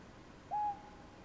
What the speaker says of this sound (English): I like this lone owl or whatever it is.